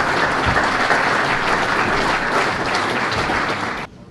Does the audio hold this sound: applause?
yes